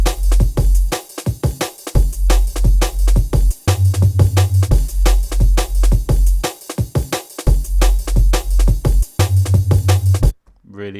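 A low, wobbling sine-wave bass from two detuned sine waves, playing under a loud drum and bass style breakbeat with sharp snares and hats, steady and dense throughout before stopping abruptly at the end.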